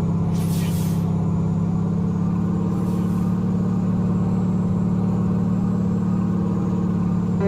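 A Kenworth T600 truck in a driving game holds a loud, steady low engine drone throughout, with a deep rumbling tone suited to an engine brake and two brief airy hisses near the start.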